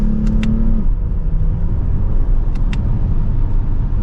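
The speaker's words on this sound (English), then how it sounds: "With a mild acceleration, we are up to the speed limit" 2023 Lexus ES 350 F Sport sedan in Sport S Plus mode accelerating mildly: a steady, loud engine drone and road rumble with a rising tone early on. Brief high clicks are heard twice.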